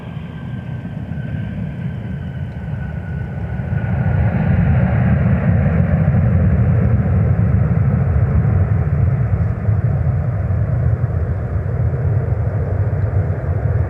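Delta airliner arriving on runway 12 right at Minneapolis–St. Paul airport, its jet roar rising from a distant rumble to a loud, sustained broadband rush that holds steady as it passes.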